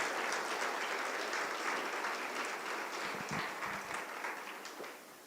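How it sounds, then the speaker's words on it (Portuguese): A church congregation applauds in a dense, sustained wash of many hands clapping, steady and fairly loud before tapering off toward the end, with a few voices briefly audible. "Uma salva de palmas para o Senhor."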